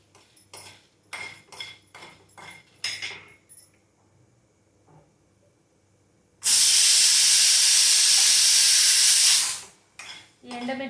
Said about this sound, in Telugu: ఇది కలర్ చేంజ్ అయ్యాక ఎండుమిర్చి వేసుకుంటున్నాను.